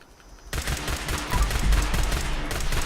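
Two-shot laser pistol fire in Fallout 76, a rapid burst of sharp, dense shots erupting suddenly after a quiet start and continuing loud and close for a couple of seconds.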